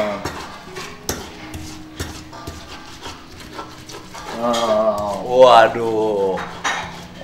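Boiled tomatoes are ground in a stone mortar with a pestle, giving repeated knocking, clattering strokes that grow busier and louder toward the end, while people talk nearby.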